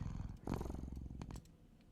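A video game cat gives a low, rumbling purr, close and soft, pulsing for about a second and a half before fading.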